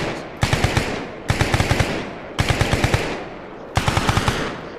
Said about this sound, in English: Is that friendly shooting to the northwest of church?